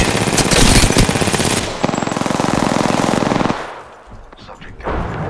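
Loud sustained automatic gunfire from the game Apex Legends rattles close up in rapid continuous bursts, then breaks off into a quieter stretch with some talk.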